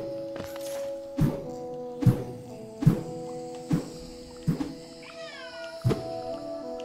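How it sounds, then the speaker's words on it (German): A tomcat indoors gives a single loud, drawn-out meow midway through a series of regular, evenly spaced thuds, with no one talking. "Da ist der Kater gerade reingekommen und hat richtig laut miaust"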